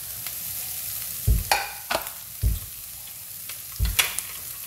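Capsicum stir-fried over high flame for chilli chicken, a steady sizzle broken by several bursts of scraping and tossing as the pan is stirred, close up with no talking.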